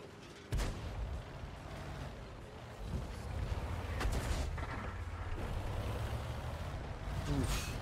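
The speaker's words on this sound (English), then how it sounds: "That KV-2 shot almost got me" A KV-2 tank's cannon fires in a tank video game, one sharp heavy blast that gives way to a rumbling engine drone and quieter mechanical clatter, with some faint speech underneath.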